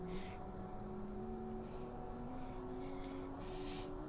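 A steady, faint Tu-204 airliner engine drone in a flight simulator hums with sustained tonal whine as the second engine starts, the pitch edging slightly upward partway through, with soft intermittent hiss above it.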